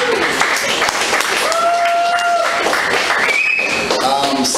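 Audience applause, steady dense clapping from a crowd that carries on without a break, with a voice and some brief tonal sounds laid over it.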